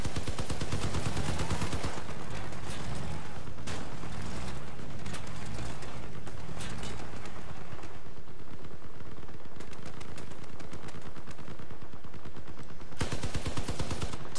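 Gunfire and cannon blasts in the vehicle combat game Crossout, with dense rapid bursts of shots and sharp heavy impacts in a loud, continuous barrage, no talking.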